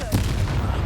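A Confringo blasting spell is cast in Hogwarts Legacy: one sharp, loud burst followed by a sustained low rumble.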